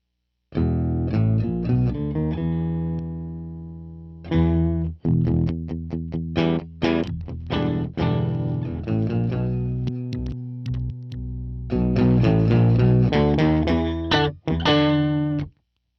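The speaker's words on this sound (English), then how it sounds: "there's also an octave down that I love to use." An electric guitar plays a riff through a thick, deep effect that adds a low octave beneath each note, with brief pauses between phrases.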